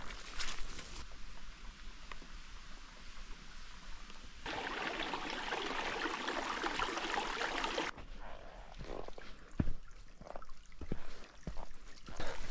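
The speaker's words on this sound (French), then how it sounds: "Le sentier, c'est littéralement rendu un ruisseau." Water running down a rain-soaked hiking trail on Mont Caribou like a small stream, a soft trickling wash that swells louder midway, mixed with scattered footstep scuffs and knocks, no talking.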